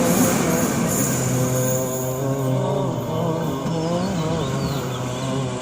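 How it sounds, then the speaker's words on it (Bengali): A train moves off in the distance as a steady, droning rumble with faint tonal hums, with no talking. "ও যে দূরে ট্রেন চলে যাচ্ছে"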